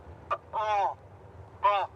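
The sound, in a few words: recorded cormorant distress call played at an airport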